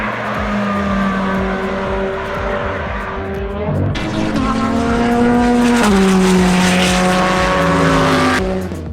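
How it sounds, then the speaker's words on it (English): A Chevrolet Corvette C8 test mule runs hard, its engine note rising and falling through gears in a loud, continuous race-car roar, with a sharp upshift midway and no voices. "if you listen to both the C8R and this test mule, my ears hear the exact same sound"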